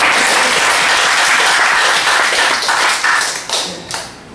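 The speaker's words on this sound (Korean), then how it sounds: "다시 한번 박수 한번 주세요." A church congregation at a Wednesday worship service claps loudly and steadily, then the applause thins out and fades over the last second or so.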